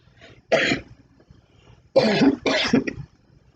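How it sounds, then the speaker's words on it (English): Three harsh, close coughs: one alone, then a pause and two more in quick succession, in an otherwise quiet room. "That's why I'm coughing."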